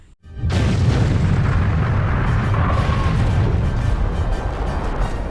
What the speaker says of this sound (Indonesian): menembakkan torpedo ke kota tersebut hingga akhirnya meledak dan menghancurkan kota tersebut.